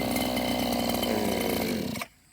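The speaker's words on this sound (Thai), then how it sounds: "กำลังตัดหญ้า เพิ่งตัดไปนะฮะ" A grass cutting machine's engine drones loud and close, then cuts off abruptly after about two seconds, leaving near silence.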